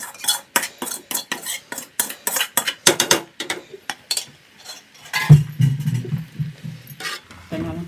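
Metal utensil stirring fried egg into Chinese egg noodles in a home pan, a run of sharp scraping clinks that give way to a soft sizzle with low hum, with a voice briefly talking.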